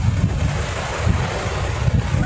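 Strong wind gusting outdoors by the sea, a loud steady roar of buffeting and rumbling wind noise over the microphone, with surf washing in beneath it.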